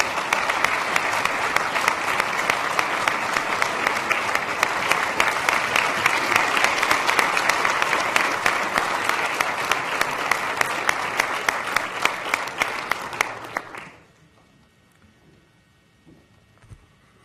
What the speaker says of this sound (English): please let us all give a very warm round of applause to Wiley and Tom